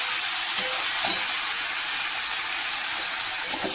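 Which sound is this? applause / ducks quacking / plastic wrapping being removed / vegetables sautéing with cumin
vegetables sautéing with cumin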